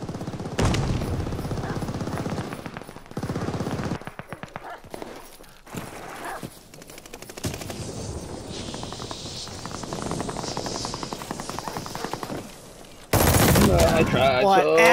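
Rapid machine gun bursts crackle in a first-person shooter match, with rattling strings of shots broken by short pauses, some louder blasts, and a heavy noisy stretch at the end.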